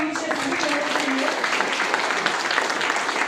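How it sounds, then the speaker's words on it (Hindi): An audience breaks into applause at a Vestige business gathering, a dense crowd clapping steadily while a voice briefly carries over the start. "जोरदार तालियां होनी चाहिए सभी लोगों के लिए"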